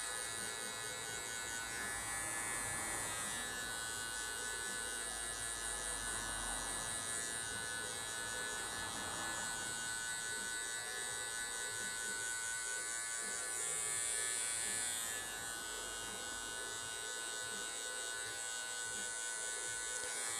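Electric hair clipper with a guard set half-open, equivalent to a number 1, trimming hair during a mohawk fade haircut; a steady close buzzing hum runs continuously throughout with no talk.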